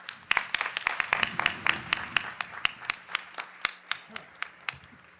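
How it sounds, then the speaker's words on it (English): Distinct hand claps, sharp and evenly spaced, from a small group at a school board meeting, with a voice talking underneath during the first part. "Let's give them another round of applause."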